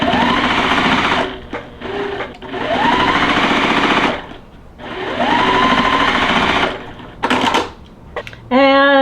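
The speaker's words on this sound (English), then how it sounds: "so let's go ahead and sew these" Sewing machine stitching quilt block fabric pieces for a gazebo block, running in three long bursts of rapid, steady stitching separated by short pauses, with a brief voice and clicks near the end.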